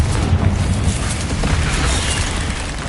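Confringo fire spell blasting in the Hogwarts Legacy video game, a loud continuous rumbling explosion with deep low boom and broadband crackle sustained for about three seconds, no talk.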